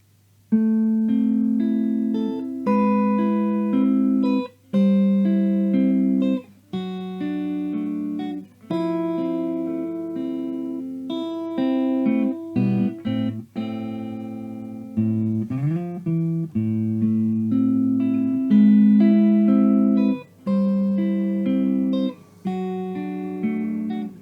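A fingerpicked acoustic guitar plays a song intro alone, with clear plucked notes ringing over a repeating bass pattern in short phrases.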